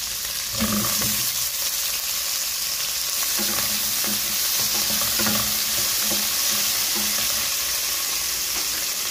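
Potatoes, carrots and other ingredients for Filipino pork soup lightly frying and being stirred in a pan, a steady close sizzle with intermittent scraping stirs.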